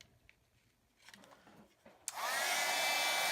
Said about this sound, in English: I'm going to take my close to my heart craft heater, and I'm going to heat it and set that embossing powder